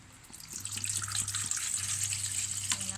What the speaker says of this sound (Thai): แล้วก็เทน้ำเปล่าลงไปก่อนค่ะ น้ำเปล่าลงไปก่อน